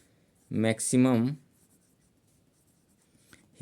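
Pen or marker writing out an answer during a maths lesson on derivatives, as faint scratchy strokes in the quiet after a brief burst of male speech. The strokes are near and soft, with a tap at the end.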